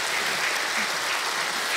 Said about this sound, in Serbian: Dajte jedan aplauz za Milija